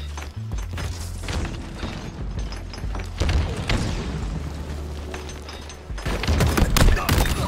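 Grenade blasts and gunfire in a Halo Infinite firefight, dense booming thuds and rattling shots layered over a steady low rumble, with a loud burst near the end.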